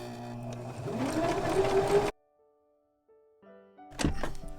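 A sewing machine runs fast for about two seconds while stitching the end of handwoven towels, then stops abruptly; after a quiet pause, a couple of sharp mechanical thunks follow close by.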